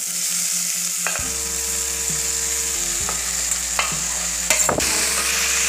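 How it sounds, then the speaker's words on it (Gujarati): Spinach goes into a pan of potatoes for a spinach-and-potato curry and gets stirred, a steady frying sizzle with scraping spoon strokes and a few sharp clinks of utensil on pan, close and alone. "બટાકાને થોડી વાર આપણે ચડવા દઈશું આપણે એમાં પાલક નાખીશું બટાકામાં"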